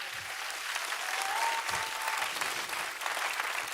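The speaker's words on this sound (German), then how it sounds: "Applaus, Applaus." Sustained applause from a church audience at ICF Zürich, a full, even roar of many hands clapping at once that holds at a steady level without pauses.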